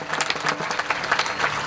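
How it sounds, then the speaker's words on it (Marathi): An audience at a kirtan during a Mahatma Jotiba Phule Jayanti gathering claps together in a steady, dense round of applause, moderately loud, from a crowd of many hands with no voices over it. "त्या सगळ्या यजमान करणाऱ्यासाठी एकदा सर्वांनी टाळी वाजवा."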